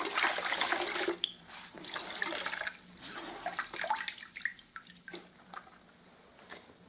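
A cloth rinsed in a bucket of water clouded with heavy plaster sediment: sloshing, splashing and dripping close up, strongest at first then thinning to scattered drips.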